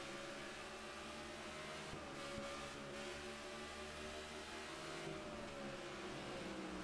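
Race car engines in the NASCAR '15 video game on a road course, a faint, sustained engine drone with layered tones that rise and shift slightly, continuous with no speech.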